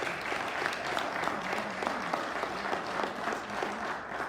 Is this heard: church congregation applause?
yes